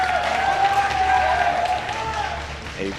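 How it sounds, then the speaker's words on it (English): A large esports arena crowd at a StarCraft CrossFinal final match cheers and applauds a favored player in a steady, loud, dense roar of clapping and shouting with whistles, sustained throughout. "the cheers for him in this intro were 10 times higher than Solar"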